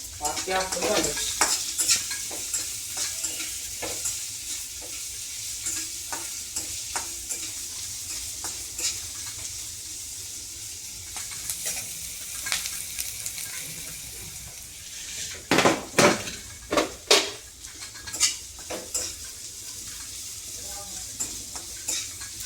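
Onions frying in a pan with chili just added, cooked for a wild vegetable curry in a farm kitchen: steady close sizzle with stirring scrapes, and a few louder clatters near the end.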